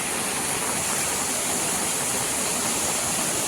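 Heavy rushing water from colony waterfalls swollen by hard monsoon rain, with flooded roads nearby, a steady dense broadband roar that stays loud and unbroken throughout.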